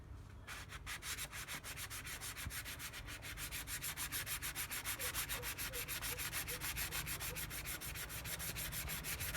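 Rust is scrubbed off a garden hoe blade with steady rhythmic rubbing strokes, a fast, even scraping pulse that runs continuously and close, with no talk.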